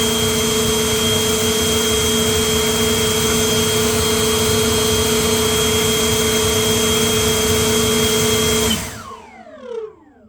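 An EGO LB8800 880 CFM cordless leaf blower runs close and loud with a steady whining roar and a high tonal whine, then cuts off near the end and winds down with a falling whir.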